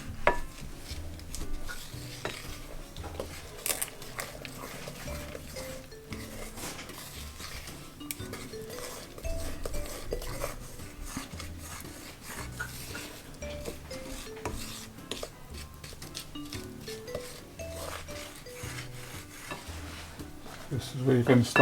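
Carrot cake batter for a Jamaican carrot cake is mixed by hand in a bowl, with the spatula scraping and rubbing against the sides in soft, irregular strokes that run on without stopping. A few brief clinks sit in the low, close-up texture.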